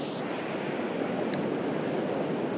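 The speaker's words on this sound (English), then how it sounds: "Surf today in Lido." Ocean surf rolls onto Lido Beach, New York, as a continuous broadband wash of breaking waves with wind, steady and moderately loud without distinct individual crashes.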